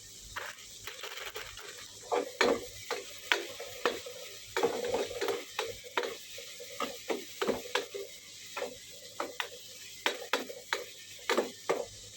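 Food frying in a pan in a home kitchen, crisping until browned, with a steady quiet sizzle broken by repeated sharp scraping and clinking strokes of stirring throughout.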